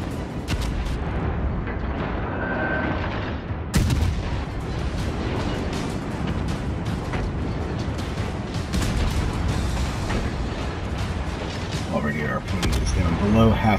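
Naval gunfire from the cruiser USS Albany in the game World of Warships Legends, with repeated booming cannon shots and explosions over a dense, loud battle din, alongside a continuous stream of talking.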